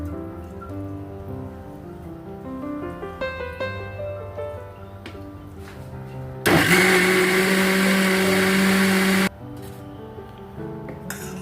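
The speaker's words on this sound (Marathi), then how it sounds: "मिक्सरवर बारीक पीठ दळायचं आहे डाळी आणि दलिया असं रात्रभर भिजत घातल्यामुळे आता हे फक्त एकत्र वाटून घेतो आहोत" A mixer grinder whirs loudly for about three seconds as it grinds soaked lentils and broken wheat into dosa batter, starting and stopping abruptly amid quieter background sounds, with no talk.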